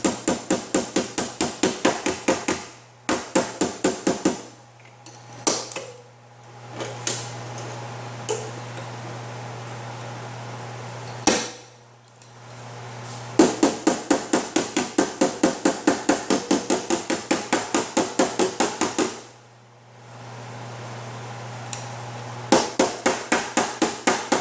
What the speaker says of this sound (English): So I can get the hammer underneath here.